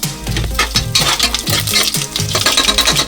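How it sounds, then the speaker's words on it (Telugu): Spices being stirred in hot ghee in a pressure cooker, with a steady frying sizzle under repeated scraping and clinking of a spoon against metal, close and loud with no talking. "కొన్ని స్పైసెస్ అండి వేసి కొంచెం కలుపుకోవాలి"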